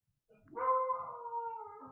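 A single drawn-out dog vocalization, more a howling bark than a sharp yap, rising and holding for over a second, fairly distant and alone.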